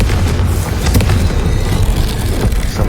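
In Hogwarts Legacy, a Confringo spell sets off a loud, dense booming blast with rumbling low crackle that lasts the whole stretch.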